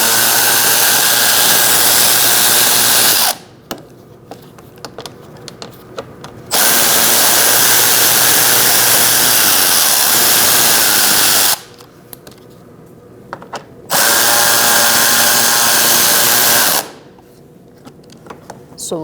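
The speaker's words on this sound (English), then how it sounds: "Now we're going to remove 3 bolts underneath using a 7mm socket." A power tool whirs loudly for several seconds at a time, driving a 7mm socket on bolts underneath a 2016-2019 Chevrolet Cruze, with three long bursts broken by quieter gaps of small clicks and handling.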